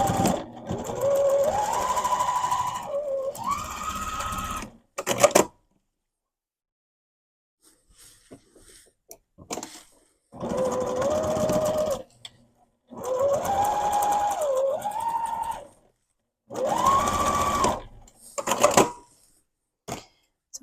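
A sewing machine stitching flat, even seams on a stuffed goose, running in several separate bursts of rapid mechanical whirring with quiet pauses between them.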